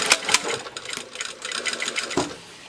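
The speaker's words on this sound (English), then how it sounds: "And we're sewing on the lining," A sewing machine stitches lining onto the tight front curve of a V-neck dress bodice, running in short close bursts with brief pauses between them.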